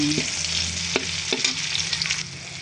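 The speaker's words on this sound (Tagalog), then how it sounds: "Yan, igigisa ko lang po yan." Garlic, onion and ginger sauté in a hot pan with a steady broadband sizzle, punctuated by a few sharp scraping knocks of a utensil stirring against the pan; no talking.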